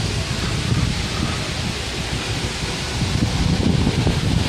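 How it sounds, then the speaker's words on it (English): Steady wind blowing outdoors along a walkway at Animal Kingdom, a constant close rushing and buffeting noise filling the scene with no clear breaks. "Oh, it's so breezy out here."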